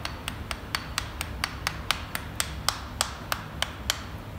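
An Allen key taps repeatedly against acrylic film to break it off, giving a steady series of about fifteen sharp, bright clicks at an even rhythm over a low background hum.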